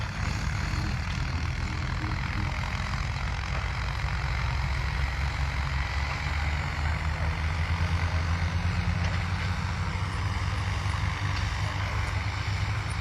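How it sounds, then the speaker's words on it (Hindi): Tractors and similar earth-moving machines work a riverbed floodplain field, a dense, continuous engine drone that stays steady and fairly loud without any break. "देखिए किस तरीके से ट्रैक्टर धुआंधार तरीके से चल रहे हैं।"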